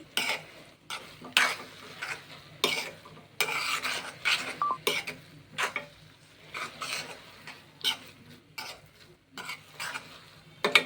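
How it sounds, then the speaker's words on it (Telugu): Spoon stirring semiya kesari, a sweet vermicelli dish, after fried cashews and raisins go into the pan, giving repeated scraping and clinking strokes against the pot with soft sizzling between them, close and clear. "జీడిపప్పు కిస్మిస్ని కూడా వేసి ఒకసారి చక్కగా కలిపి"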